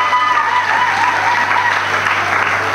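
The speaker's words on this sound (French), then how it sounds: "On applaudit très fort la présidente du Parlement" Loud, sustained applause from a crowd at a school student-government investiture ceremony, continuous clapping with no speech over it.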